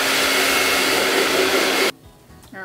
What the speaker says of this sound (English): You heat up the adhesive with a blow dryer and then usually it pulls off.